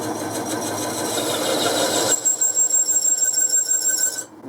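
An insert parting-off tool rubbing rather than cutting cleanly on a lathe: a dense grinding hum that gives way to a pulsing, rhythmic squeal with a thin high whistle, ending abruptly.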